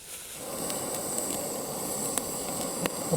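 A flame hisses steadily while singeing chicken liver used as catfish bait, a continuous close roaring hiss with a few small crackles.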